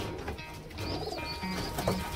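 Pigeons coo softly nearby, a few low throaty calls over a light outdoor background.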